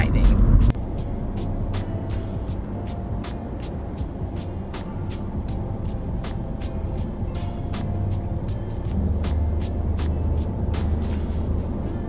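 A car driving on the road, heard from inside the cabin, with a steady low rumble of road and engine noise throughout and scattered small clicks and rattles.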